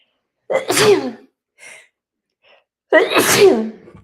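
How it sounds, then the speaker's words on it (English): Two loud, close sneezes a couple of seconds apart, each with a sharp explosive burst, separated by a soft sniff. "I gotta sneeze."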